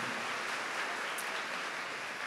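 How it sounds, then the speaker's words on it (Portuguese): A church congregation at a Catholic service applauds in a steady, dense wash of clapping that holds evenly for a couple of seconds, with no voices over it. "Pode aplaudir, pode aplaudir."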